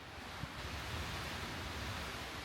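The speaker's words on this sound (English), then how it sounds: "Somehow we still can't avoid the wind." Steady, dense rushing wind gusting to 50 mph roars across the microphone outdoors between Sedona and Amarillo, a continuous broadband buffeting with no voices.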